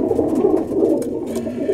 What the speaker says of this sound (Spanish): Pues ahí está, se ven bien las palomas.